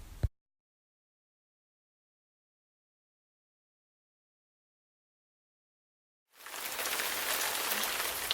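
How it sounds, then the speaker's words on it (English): Rain begins falling after a long silence, a broad steady hiss of drops on a surface swelling in and continuing to the end. "it's starting to rain"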